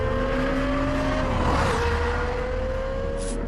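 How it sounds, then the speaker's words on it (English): A high-revving V10 engine of a Lexus LFA screams at a sustained high pitch, loud and close, its tone dipping briefly then holding steady. "Only a high-revving V10 engine supplies this combination of power and sound"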